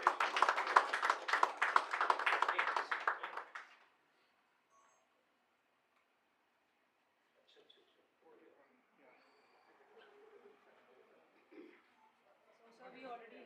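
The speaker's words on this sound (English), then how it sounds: "Let's give him a big round of applause" A short burst of audience clapping at a milk bank inauguration ceremony, loud and dense for a few seconds before cutting off abruptly, followed by near silence and faint scattered small sounds.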